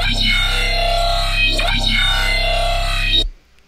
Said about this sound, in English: So in the FX tab, let's add a multiband compressor to bring it all together.